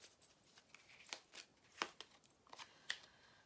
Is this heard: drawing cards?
yes